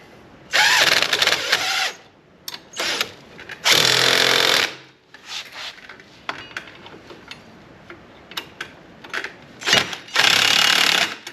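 A power tool tightens the upper ball joint on a 2011 Polaris Ranger 800 side-by-side, buzzing out in several loud, rattling bursts of one to two seconds, with quieter clicks and clanks between them.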